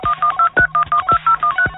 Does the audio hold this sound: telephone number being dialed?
yes